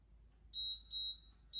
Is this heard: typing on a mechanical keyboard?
no